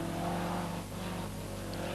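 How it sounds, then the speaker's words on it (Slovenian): Lancia Delta Integrale Group A rally car at the 1992 Saturnus Rally, its engine note droning steadily and fairly loud throughout with a dip midway, as if driving past or holding speed on a stage. "Anton Grum z Lancia Delto Integrale skupine A."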